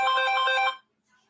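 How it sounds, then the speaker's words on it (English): A mobile phone ringtone rings nearby, a loud, bright, rhythmically pulsing electronic tone lasting under a second before cutting off into near silence. "Let me put my phone on Do Not Disturb before."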